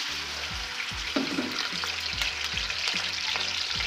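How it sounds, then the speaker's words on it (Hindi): Chicken frying in a pan for a white chicken korma, a steady loud sizzle throughout with occasional stirring clanks and bumps, no talking. "अब हम चिकन को फ्राई करते हैं।"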